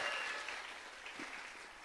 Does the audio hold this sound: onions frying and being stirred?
no